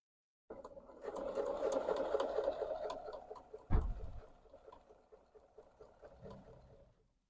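Sewing machine stitching a half-inch seam down the side of fabric for a modern Japanese-style rice pouch: a close, steady rapid whirring hum for several seconds with one brief thump midway, slowing to a stop.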